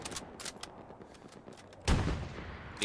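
Machine gun fire in the WWII shooter Hell Let Loose, distant rapid bursts followed by a loud close blast and rumbling roar near the end, no talking.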